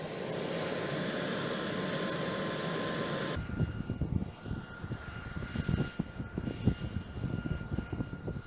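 Boeing MQ-25 unmanned aircraft on the deck of the carrier USS George H.W. Bush, with a loud steady engine roar and high whine that cuts off abruptly, leaving rumbling, uneven deck noise and wind.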